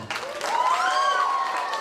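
An audience at a speech event claps in a brief burst of close applause, with a sustained vocal cry ringing over the clapping.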